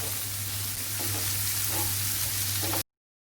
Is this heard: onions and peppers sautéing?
yes